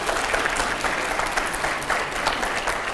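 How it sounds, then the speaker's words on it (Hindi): Steady applause from a crowd, a dense wash of clapping that continues evenly throughout. "बस जरा तालियां हो जाए इसके लिए"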